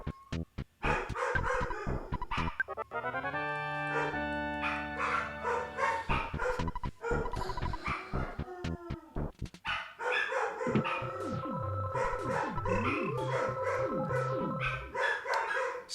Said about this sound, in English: but they're barking like crazy.